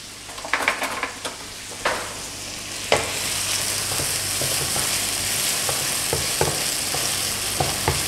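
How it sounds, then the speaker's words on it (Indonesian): Onions, garlic and chili sautéing in a wok, a continuous loud sizzle with repeated sharp spatula clacks and scrapes against the pan throughout, and no voices. "Oke, nah ini akan kita tumis dulu ya sampai dia agak layu ya"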